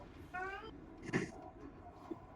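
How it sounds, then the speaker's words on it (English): A house cat meows once, close by, in a short harmonic cry that rises over a noisy room, followed by a brief clatter. "That was my cat."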